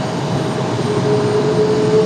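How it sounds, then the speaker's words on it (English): American Airlines Boeing 777 departing Raleigh-Durham International for London Heathrow, a loud steady jet engine roar with a thin rising whine, brief and without talk. "So our 777 is headed off to London Heathrow."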